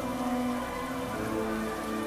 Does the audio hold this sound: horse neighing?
no